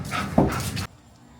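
A pet dog gives a short whimpering cry while dishes clink around it indoors, the sound fairly close and ending abruptly into near quiet.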